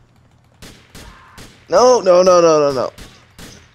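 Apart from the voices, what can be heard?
gunfire in the video game GTA IV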